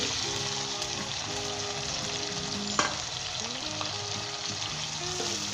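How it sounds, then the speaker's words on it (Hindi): Steady, loud sizzling of chicken frying in a hot pan for a chicken and green beans dish, a continuous crackle with one sharper pop partway through. "इसे फ्राई करेंगे इसके अंदर अच्छे तरीके के साथ"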